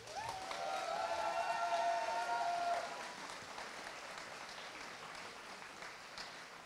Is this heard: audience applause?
yes